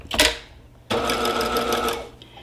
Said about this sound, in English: you don't want to sew over the other triangles